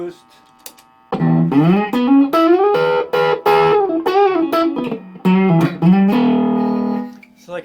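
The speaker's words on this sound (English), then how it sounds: "It's like a 10 dB boost." Sebago Sound DT 25 guitar amp on its dirty channel with a 10 dB mid-range boost engaged, playing loud distorted guitar phrases with sustained chords and quick single notes, close and alone.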